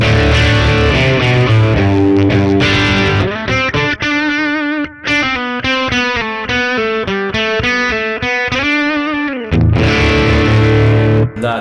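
Electric guitar played through a Mooer Preamp Live with a boost engaged, loud and distorted, with ringing sustained chords followed by a run of quick picked notes and then chords again.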